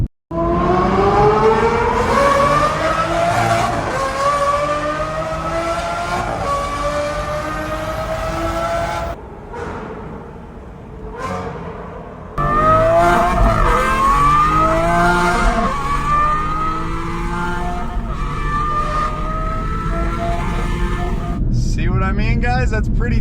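Aston Martin V12 Vantage S with an aftermarket exhaust revving hard through gear changes, rising howl after howl with a brief lull mid-way, loud and close.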